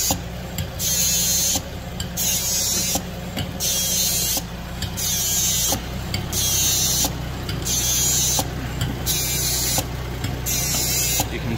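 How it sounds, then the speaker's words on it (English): Oil is pumped by hand into a ZF 6HP26 automatic gearbox from a Ford Falcon or Territory: a steady mechanical hum underlies a regular pulsing hiss that repeats about once a second throughout, close and loud. "That's because the oil is being pumped around the gearbox now. So we'll keep on pumping some more in."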